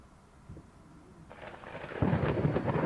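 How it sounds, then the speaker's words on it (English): Rain in the video game Layers of Fear starts up and builds into a steady broadband hiss, with a low rumble of thunder rising underneath and growing louder toward the end. "There's the rain."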